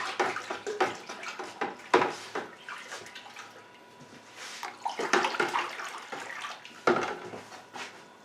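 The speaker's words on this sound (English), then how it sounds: "So I'll just put a couple pinches in for now. Give it a good stir." Bourbon mash being stirred in a large vessel after a pinch of citric acid is added, with repeated wet sloshing and swirling strokes in an uneven rhythm, close and moderately loud, with no talking.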